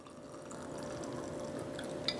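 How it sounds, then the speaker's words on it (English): Water pours into a glass jar of loose tea herbs as a soft, steady trickle and gurgle, quiet and close, ending with a small clink near the end. "Now we continue to fill up the jar with the water to the top."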